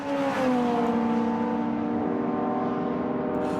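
Historic race cars such as Ferrari, Porsche 917 and Lola T70 racing, with a loud, steady engine roar and sustained high revving tones that sweep gradually as the cars pass on track, with no talk.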